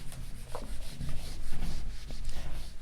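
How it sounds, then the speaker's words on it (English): Steady scraping and rubbing of a cloth or duster wiping writing off a board during a differential equations lecture, continuous and fairly loud, with no talking. "Now I shall rub out this so that we can write the solution here."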